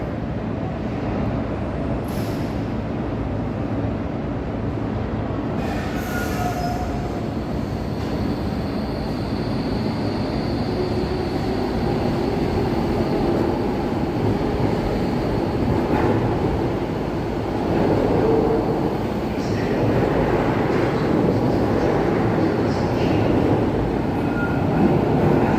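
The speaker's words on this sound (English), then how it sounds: "let's just catch this train going out" A DLR B23 stock train pulls away, a loud continuous low rumble and rolling hum that holds for nearly half a minute, with faint higher tones and slight swells as it departs.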